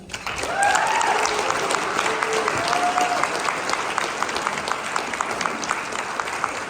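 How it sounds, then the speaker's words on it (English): Sustained applause from an audience at a realtors' association installation event, a steady dense wash of clapping filling the room with a few faint voices mixed in. "Please, everyone, join me in a special round of applause for Dave and Jenny."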